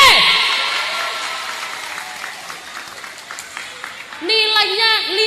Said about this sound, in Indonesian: Tepuk tangan untuk regu B.